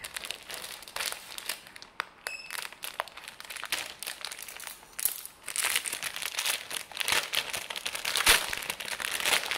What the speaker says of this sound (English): So I have to cut it.